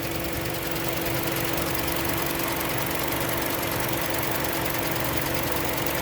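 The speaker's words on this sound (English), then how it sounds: "this engine is very sturdy and very good and very powerful" The 2.4-liter inline four-cylinder engine of a 2021 Toyota RAV4 XLE Premium FWD idles with a steady, close, continuous hum and a fine mechanical buzz, with no talk.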